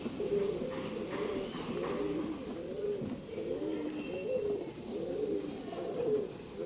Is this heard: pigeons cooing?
yes